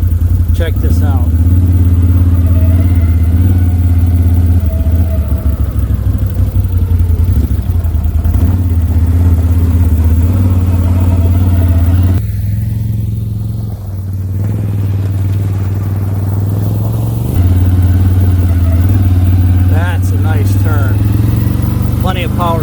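A 2023 Can-Am Outlander XT850 ATV engine drones steadily and loudly at close range while riding, with a brief dip in revs midway before resuming, and someone talks over it.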